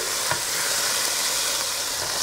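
Goulash meat searing in a Dutch oven, an even, continuous sizzle close by with a faint knock of stirring near the start and no speech.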